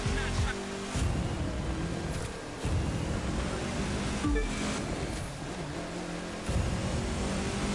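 A racing car drifting in The Crew 2, with an engine roar and tyre and surface noise that surges and drops in repeated bursts as gears shift. A voice talks over it.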